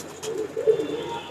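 Soft, low coos of Rampuri pigeons rise and fall in a brief, close-up call, with faint rustling behind.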